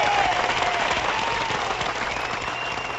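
A studio group of people claps steadily, the dense applause staying loud and unbroken for the whole stretch with no break or voice.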